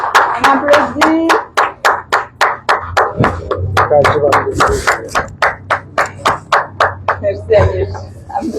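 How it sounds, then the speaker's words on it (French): A crowd at a certificate award ceremony claps in sharp, rhythmic unison, loud and close, with roughly three beats per second running the whole way, while voices talk and call out underneath. "On applaudit."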